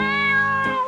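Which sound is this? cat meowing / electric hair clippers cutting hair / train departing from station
cat meowing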